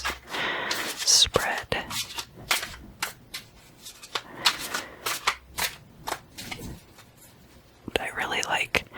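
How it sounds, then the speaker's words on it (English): Vampirella tarot cards being laid out in a Celtic cross spread, giving crisp snaps, flicks and shuffling rustles up close, with soft whispering running over the card sounds. "So these Vampirella tarot cards, I'm going to lay out a Celtic cross spread."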